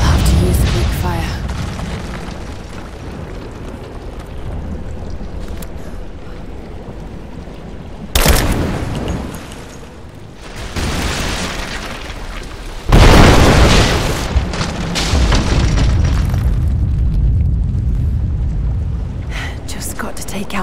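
Greek fire vessels explode in Rise of the Tomb Raider on PS5: two loud, booming blasts with rumbling debris break through dense, continuous game noise.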